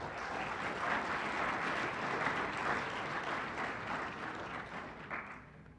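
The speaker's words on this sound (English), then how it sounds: "Please give them a round of applause." Steady audience applause at an Envirothon awards ceremony, an even, moderately distant wash of many hands clapping that holds for the whole stretch without pause.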